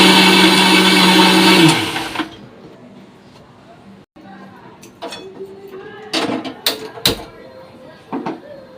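A mixer grinds spice masala for mutton with a loud whir for about two seconds, then winds down, followed by clatter of the jar and someone talking.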